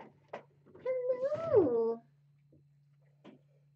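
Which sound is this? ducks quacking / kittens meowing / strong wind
kittens meowing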